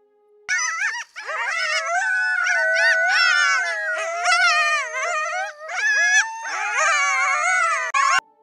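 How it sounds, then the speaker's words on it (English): A pack of coyotes howls together in the wild at night, overlapping rising and wavering wails with yips, loud and sustained before cutting off sharply. "Look at this pack of coyotes. Wait for it. They're about to start howling."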